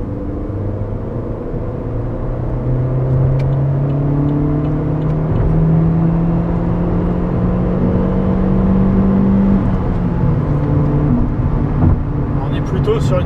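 2013 Opel Astra 1.4 Turbo 120 pulling from about 50 km/h in third gear, a loud in-cabin engine drone rising steadily in pitch, easing briefly, then continuing; no talk over it.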